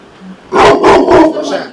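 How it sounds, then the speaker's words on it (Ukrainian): Guard dog barking loudly and close at its new home in Dnipro, a run of three or four rapid deep barks in quick succession after a brief quiet moment. "Пес Ардон захищає свій новий дім у Дніпрі"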